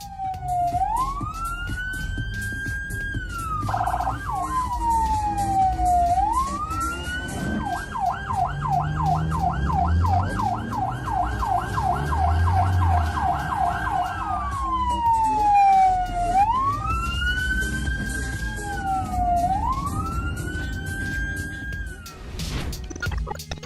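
An ambulance siren wails continuously through traffic, alternating slow rising-falling sweeps with a rapid yelping pattern, loud and close over a rumble of street noise.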